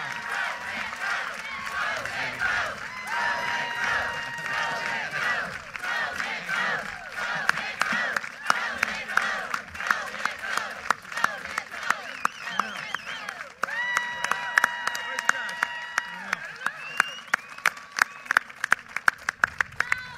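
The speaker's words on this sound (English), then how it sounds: "Family's all watching and cheering." Family and crowd at a presidential candidacy announcement in New Hampshire, applauding and cheering in a dense wash of claps and shouts, later thinning into scattered individual claps with voices talking over it.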